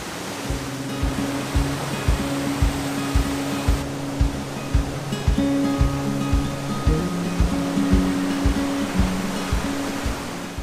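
A rushing river torrent spills near a waterfall in Argyll, making a loud, steady broadband roar through the whole clip, with no voices.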